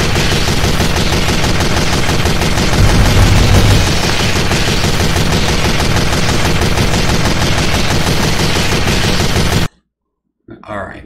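Rapid, continuous gunfire from the video game Team Fortress 2, loud and dense for about ten seconds before cutting off abruptly, followed by a short faint burst.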